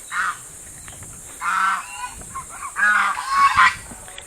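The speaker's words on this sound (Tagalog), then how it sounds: "Ayun, may gansa na rin bay." Several loud, nasal goose honks sound close by in irregular bursts over a rustling outdoor background, as geese give chase.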